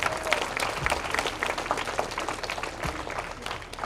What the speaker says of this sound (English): Please give a round of applause for yourself today.